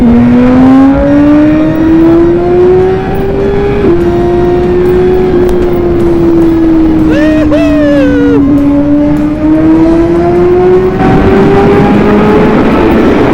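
A motorcycle engine howls loudly and continuously after a downshift from third to second gear, its pitch climbing and dipping with a short blip of revs midway, close and alone.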